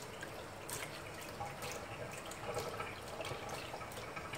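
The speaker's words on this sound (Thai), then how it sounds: "เดี๋ยวลองกรอกน้ำไปก่อนแล้วกัน เอาน้ำผ่านไส้เขานะคะเอาน้ำผ่านไส้" Water runs and trickles through animal intestines in a sink during cleaning, a steady close wet gurgle with light splashes and drips throughout.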